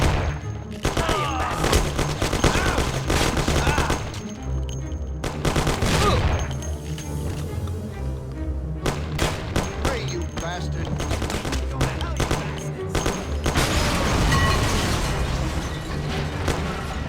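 Bursts of gunfire in the video game Mafia, loud rapid volleys of shots in several clusters with brief pauses between them, booming and mechanical game sounds mixed in, and a voice speaking at times.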